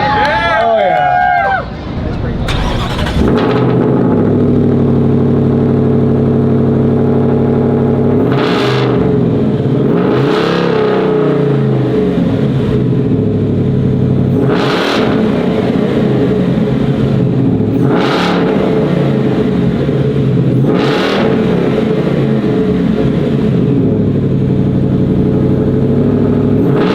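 A 2024 Shelby Baja Raptor R truck with a custom Shelby hood cranks and fires up, then settles into a loud idle punctuated by several sharp revs at regular intervals, with crowd cheering and chatter around it.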